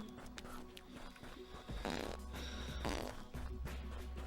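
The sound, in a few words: fart while walking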